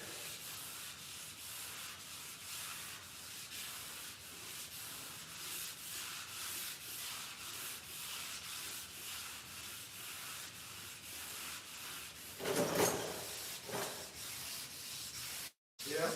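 A Dodge Dart car body being wet sanded by hand with 400 grit sandpaper, a close, steady rhythmic scrubbing of rapid back-and-forth strokes, with a brief louder scuff near the end.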